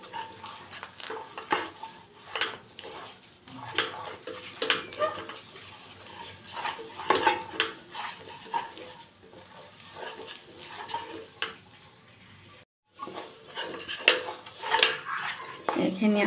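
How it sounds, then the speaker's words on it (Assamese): A green pea kabab mixture is stirred and roasted in a pan, with irregular scraping and clattering strokes of a utensil against the metal, moderately close, rising and falling in bursts with a brief gap partway through. "এনেকৈ লৰাই থাকিব।"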